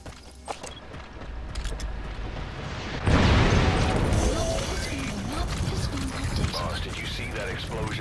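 A vehicle crash explosion in Metal Gear Solid V: The Phantom Pain, a sudden loud broadband boom about three seconds in that gives way to sustained rumbling debris noise, following quieter game ambience with clopping and mechanical sounds.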